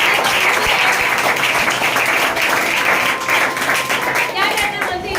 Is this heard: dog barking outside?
no